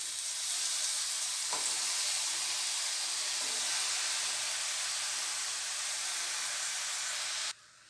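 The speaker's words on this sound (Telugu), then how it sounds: "ఇప్పుడు మనం ఈ గోంగూరని ఈ ప్యాన్లోకి వేసేసుకుందాం" Washed gongura leaves, sprinkled with a little salt, drop into a hot pan and sizzle loudly and steadily, a close, bright hiss that carries on for several seconds before cutting off abruptly.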